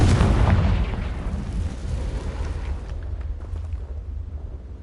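A Confringo fire spell in Hogwarts Legacy bursts loudly, with a deep rumbling explosion that decays into a sustained low roar over several seconds.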